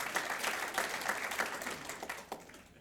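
A seated audience at a State of the State event in Torrance, California breaks into soft, dense clapping, a steady patter of many hands that carries for a few seconds and then thins out near the end.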